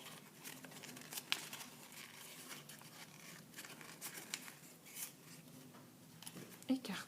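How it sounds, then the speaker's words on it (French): Folds of an origami paper pot are unfolded and smoothed by a finger, with faint close crinkling and rustling of paper in small irregular bursts and a voice speaking softly. "Glissez votre doigt à l'intérieur pour déplier et lisser les plis"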